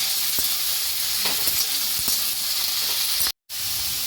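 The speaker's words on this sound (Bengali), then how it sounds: "এবার আমি সিমটা আর ঝিঙেটা একসঙ্গে দিয়ে দিচ্ছি সবজিগুলো সব একসঙ্গে ভালো করে ভেজে নিই" Broad beans and ridge gourd fry together in a pan with a steady, loud sizzle and occasional stirring clatter, broken by a brief cut near the end.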